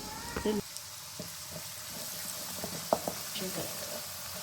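Hot oil with turmeric sizzles softly in a pan while cooking shavige bath, a quiet steady fry with a few clinks and light spatters under a speaking voice.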